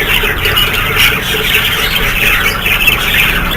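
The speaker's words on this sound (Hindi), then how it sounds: "ये नीचे जो है ये बजीज हैं।" Budgies squawk constantly in an aviary, a dense overlapping chorus of harsh, shrill calls and chatter that goes on without a break.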